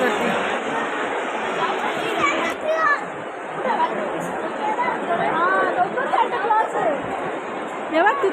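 Dense crowd chatter fills a busy Christmas Day outing: many overlapping voices, children calling out now and then, a steady loud hubbub all around.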